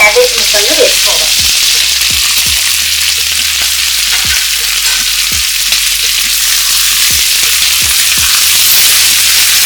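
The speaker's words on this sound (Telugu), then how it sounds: "ఇప్పుడు దీనిలో మనం పొడి పొడిగా కట్ చేసి పెట్టుకున్న క్యారెట్, క్యాప్సికమ్, క్యాబేజ్ ముక్కలను వేసుకోవాలి." Carrot, capsicum and cabbage pieces fry in a pan for prawn noodles, a loud, constant hissing sizzle with scattered low taps and knocks from the utensil, and no talk.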